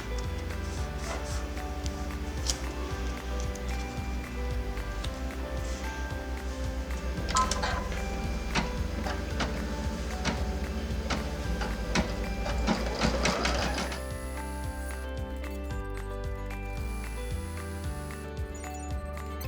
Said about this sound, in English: I'm going to run my tack down stitch.